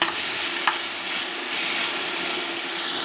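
Ginger garlic paste hitting hot ghee in a pan: an immediate loud, even sizzle with a stirring scrape, continuous and close for a few seconds, no talk.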